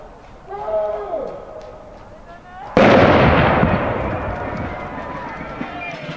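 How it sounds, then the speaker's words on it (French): A traditional cannon shot starts a night trail race, one sudden loud boom whose rumble decays slowly, following a stretch of people talking. "le traditionnel coup de canon qui donne le coup de départ"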